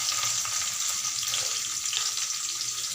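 Garlic and onion frying in hot oil for a fenugreek leaf palya, a steady, close, loud sizzle with crackling texture running unbroken throughout, no voices.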